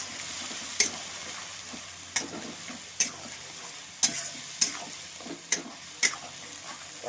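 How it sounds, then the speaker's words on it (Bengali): Chopped tomato, salt and spice paste fry in a hot pan with a continuous sizzle, while a spatula knocks sharply against the pan every second or so, close up and without talk. "এবার টমেটো কুচি দিয়ে দেবো। এবার সামান্য লবণও দিয়ে দিলাম। এবার ভালো করে কষে নেবো।"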